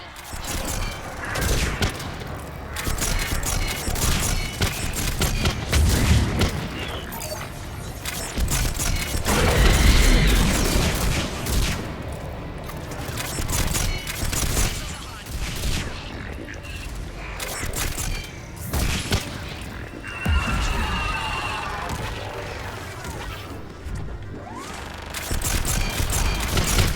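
In Mass Effect 3 combat, missile strikes and rapid gunfire crackle and rattle in dense bursts alongside mechanical clanking, loud and continuous with brief pauses, while voices speak now and then.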